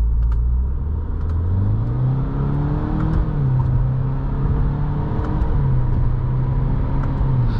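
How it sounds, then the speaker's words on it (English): A 2023 Subaru WRX GT in Sport Plus mode accelerates onto a highway, its engine drone climbing steadily and loudly, with faint crackling exhaust burbles scattered over the pull. "there are like a whole bunch of little like exhaust burbles"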